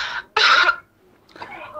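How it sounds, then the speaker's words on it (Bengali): A patient coughs hard on request during a back-pain examination: a short cough followed by a louder, forceful burst, then a fainter third cough, close and clear. "আপনি একটু জোরে কাশি দেন এখন।"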